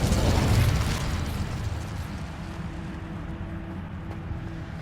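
An Incendio fire spell bursts in Hogwarts Legacy: a loud, full whoosh up front that fades into a steady low rumble and crackle with no voices.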